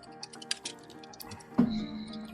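Rapid computer keyboard typing in a talk-show setting, a run of light irregular clicks near the mic followed by a louder thump and a steady background hum.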